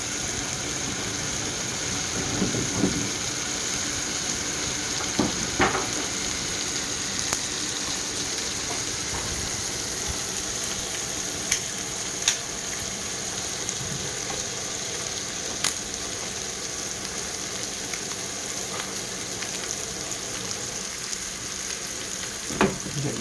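Wagyu steaks fry in a hot pan on a high burner, giving a steady, close sizzle with occasional pops and spits that continues throughout.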